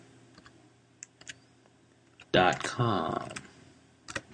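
Sparse, faint clicks of typing on a computer keyboard: a few isolated keystrokes before someone speaks, then another small cluster after he stops.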